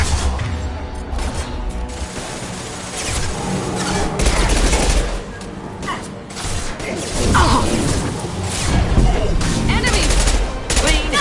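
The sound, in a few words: heavy gunfire in the video game Mass Effect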